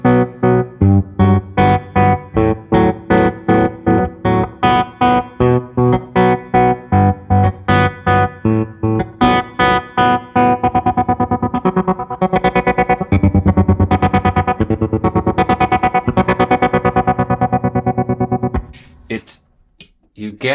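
Electric guitar through a JAM Harmonious Monk MK2 pedal in amplitude tremolo at full depth with the dry signal killed, chopping notes into a rapid square-wave pulse that fades into a smoother wash before trailing off.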